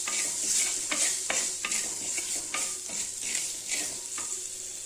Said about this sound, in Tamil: இதெல்லாம் போட்டு நல்லா வதக்கிக்கலாங்க.